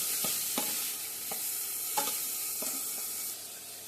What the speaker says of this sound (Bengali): দুটো মিডিয়াম সাইজের পেঁয়াজ মিহি করে কুচি করে ছেড়ে দিলাম